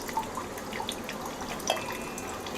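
Water goes into samba rice in a pot for mutton biryani, a faint, thin trickle with scattered small drips and splashes, quiet and without talk.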